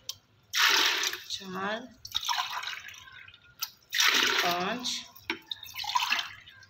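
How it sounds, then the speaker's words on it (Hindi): Water poured into a cooking pot for masoor lentils, a broad rushing splash in two long pours with short breaks between them, with someone speaking over it. "में 6 ग्लास पानी डाला है।"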